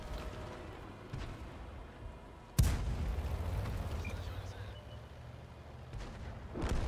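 A tank cannon firing in the game World of Tanks, including a T34, gives one sudden heavy boom followed by a rumbling tail, with fainter distant thuds around it.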